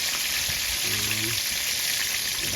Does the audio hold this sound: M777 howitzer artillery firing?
no